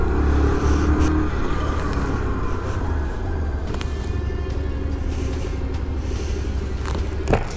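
A four-cylinder car engine runs steadily with a low, continuous rumble heard from inside the moving vehicle, holding an even level throughout.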